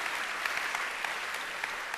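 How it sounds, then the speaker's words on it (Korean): Audience applause welcoming a visiting guest at a church service, a steady, dense wash of many hands clapping throughout, moderately loud with no talk over it. "박수로 환영해 주시면 감사하겠습니다."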